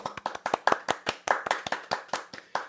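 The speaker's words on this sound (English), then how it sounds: "Can we get a round of applause?" A small round of applause during a live beer review show, just a few people clapping in uneven, sharp claps up close, with no crowd wash behind them.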